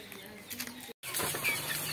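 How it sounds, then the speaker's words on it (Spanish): Soft clucking of chickens on a small ranch nearby with faint rustling, broken by a brief cut of silence partway through. "Y los compraste chiquitos, Raquel, todos estos sí, pollitos"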